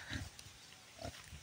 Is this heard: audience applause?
no